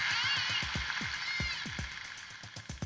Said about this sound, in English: The crew listens as dolphins swarm in for lunch.